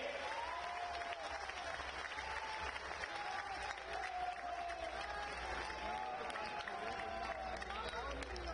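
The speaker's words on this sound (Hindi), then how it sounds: "जोर से एक बार इस युवा देशभक्त धर्म भक्त के लिए ताली बजाइए" Large crowd at a Hindu devotional rally applauds a young devotee, a steady, dense roar of clapping and crowd noise that runs throughout, heard at a distance, with voices and tonal sounds carried over it.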